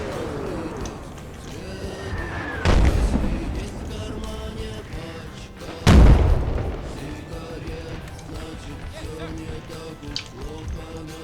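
Cannon fire in a Total War American Civil War mod battle: two deep booming shots a few seconds apart, loud and rumbling, beneath ongoing conversation between players.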